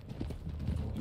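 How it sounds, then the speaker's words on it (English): Horses in Red Dead Redemption 2 clop along at a steady walking rhythm, close and fairly loud, with no voices over them. "Those horses look cooler than Greg."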